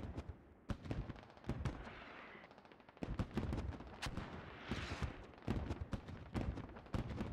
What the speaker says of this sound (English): This smoke barrage is just massive.